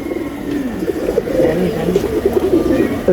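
Pigeons coo in a row of loft cages among racing birds kept three or four years, including a black-necked bird, with soft repeated low warbling coos running steadily throughout, close by, with faint background noise.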